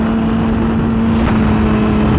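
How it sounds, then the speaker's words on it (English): Loud, steady road roar of cars driving at speed on a highway, a constant engine and tire drone with a faint whoosh of passing traffic. "Two cars going basically the same speed in each lane."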